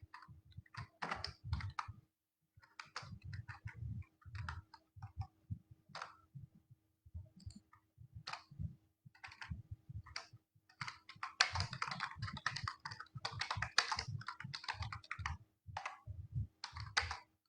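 HTML and CSS code is typed on a computer keyboard in irregular bursts of close, crisp key clicks, with a few short pauses and a heavier, denser flurry toward the end.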